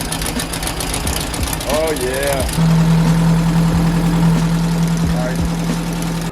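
A Volkswagen Beetle engine cranks and catches, then settles into a steady, close, humming idle, while people talk excitedly over it.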